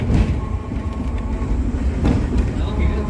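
A Hong Kong tram runs along its rails with a steady, close, loud rumble and faint clattering of the wheels throughout.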